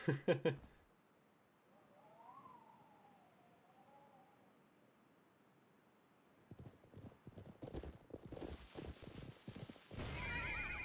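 A horse in the video game Live A Live gives a faint, wavering whinny over quiet background, then hooves clatter in a rhythmic clip-clop amid louder game noises.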